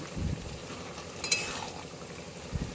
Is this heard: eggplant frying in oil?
yes